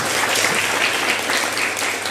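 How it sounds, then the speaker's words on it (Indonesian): Audience at a Buddhist Dhamma talk claps steadily, a dense wash of applause holding at even loudness for about two seconds with no talk over it. "Kasih tepuk tangan."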